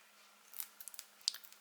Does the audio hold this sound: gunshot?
no